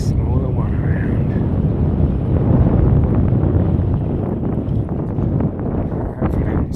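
Wind blows at a waterside fishing spot at sunset, a heavy, constant low rumble buffeting the microphone up close, with a voice faintly mixed in.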